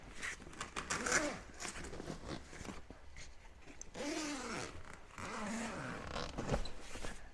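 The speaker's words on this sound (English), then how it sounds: "there's just a couple zippers here" A zipper on a waterproof, dustproof KEMIMOTO UTV bag for a 2023 Polaris Ranger 1000XP is drawn open in several close, rasping pulls of varying length, with a faint voice now and then.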